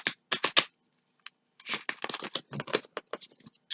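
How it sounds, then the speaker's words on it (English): Playing cards riffle shuffled by hand, quick bursts of crisp fluttering clicks in two separate runs with a short pause between, close and clear. "I'm just going to give them a riffle shuffle."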